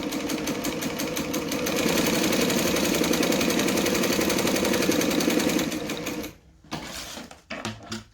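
Sewing machine stitching down the lining on a Swoon Betty bag runs in a steady, fast, close mechanical whir for several seconds, then stops, followed by a few short bursts of stitching.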